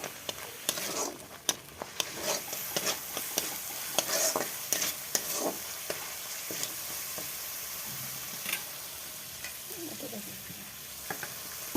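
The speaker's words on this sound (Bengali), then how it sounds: "তেল ছাড়া দিয়ে মশলাটা ভালো করে কষিয়ে নেব" Spice paste with turmeric frying in oil in a Bengali home kitchen, a soft continuous sizzle broken by repeated sharp scrapes and knocks of a spoon stirring against the pan, fairly close and quiet.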